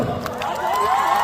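A live music show audience bursts into cheering and shouting, a dense steady crowd roar with whoops that holds loud through the short moment, with no clear clapping standing out.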